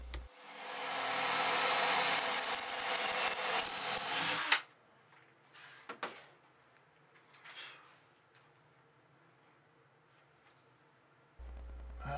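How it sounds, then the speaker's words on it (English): A power drill bores a hole through a wooden rocking horse rocker assembly, whining steadily for about four seconds before stopping, followed by a few faint knocks and handling sounds in near silence. "steady the rocker assembly while I drill the hole"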